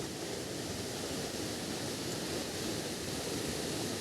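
A mountain river near a waterfall in the mountains of Mersin, heard as a steady, broad rushing roar of water with no pauses.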